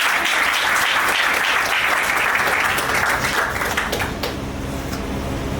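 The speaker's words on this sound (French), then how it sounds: "On applaudit, s'il vous plaît." A room of guests at a civil wedding ceremony applauds, dense steady clapping at full volume that gradually thins and fades toward the end.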